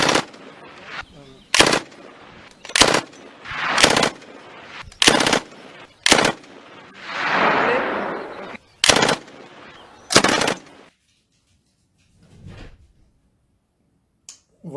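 Artemis CP400 air gun firing in quick bursts: a string of sharp, loud cracks in uneven clusters, close by, with a brief hissing stretch midway before it falls quiet near the end.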